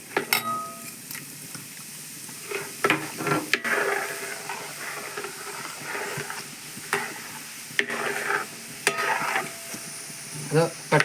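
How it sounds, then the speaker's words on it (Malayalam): Roasted gram frying in hot oil for a homemade mixture snack, a continuous crackling sizzle broken by repeated stirring scrapes and clinks, close and fairly steady throughout. "അടുത്തായിട്ട് നമ്മുടെ പൊട്ടുകടല, അതും നമുക്ക് ഈ എണ്ണയിലൊന്ന് വറുത്ത് കോരാം"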